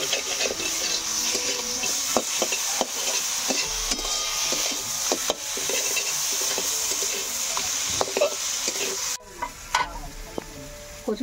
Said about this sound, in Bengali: আবার আমি খুব ভালো করে মাছের মাথাটা দিয়ে মশলার সঙ্গে কষিয়ে নেব।